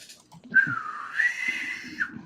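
A person tries to whistle, producing a wavering, airy tone that rises and dips for about one and a half seconds, fairly close, with faint low rumbling around it.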